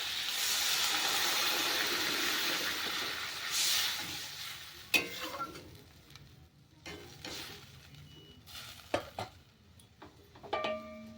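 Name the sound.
water poured into frying tomatoes and fish, sizzling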